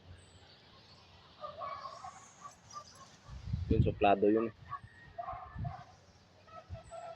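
Two small dogs whimper and yip in short bursts during a super typhoon, with a louder cluster of yelps in the middle, while a person talks nearby.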